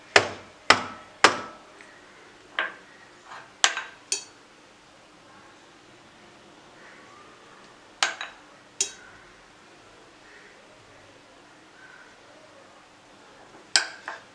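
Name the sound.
tapping marzipan chocolate mould to settle the filling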